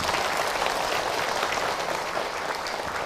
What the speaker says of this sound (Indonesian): Bagi tepuk tangan untuk Ahilman.